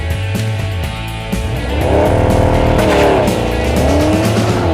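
A 2012 Porsche 911 of the 991 generation driving, its engine loud and close, revs rising and falling through shifts with a rough, throaty drone that swells midway and holds.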